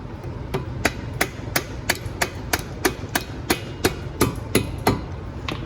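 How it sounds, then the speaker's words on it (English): A rubber mallet strikes the axle nut of a car's CV axle on a 4G Eclipse, about a dozen sharp, evenly spaced knocks, close and clear, in a steady rhythm. "you're gonna hit it with a rubber mallet"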